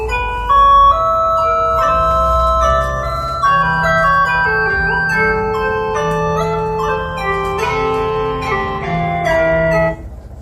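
A 1992 microtonal version, a bright, steady stream of sustained melodic tones moving through unusual tunings, with a low droning bass beneath, loud and continuous for about ten seconds, no voices.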